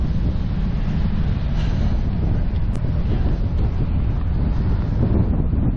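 Strong wind buffets the microphone on an exposed coastal clifftop on the Isle of Wight during a cycle tour, a loud, continuous low rumbling roar that stays steady throughout with no voices.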